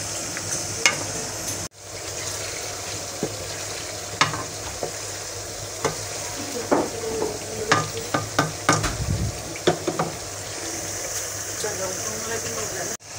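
Chicken for a moringa drumstick curry sizzles in a pan while a spoon scrapes and knocks through it in irregular strokes, near and fairly loud, with a low hum in the background and no talking.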